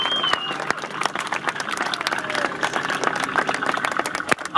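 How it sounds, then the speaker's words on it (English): An audience at a veterans' close-assault event at Camp Mabry breaks into steady applause, dense clapping that carries on throughout at moderate volume with an engine idling faintly beneath. "Give them a round of applause."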